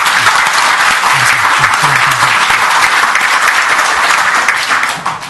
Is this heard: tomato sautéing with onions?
no